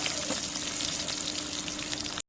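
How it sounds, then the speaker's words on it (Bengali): Garlic and chili sizzle in hot oil, a steady, close crackling fry running evenly before cutting off abruptly at the end. "রসুন মরিচ লাল করে দেবে দিব"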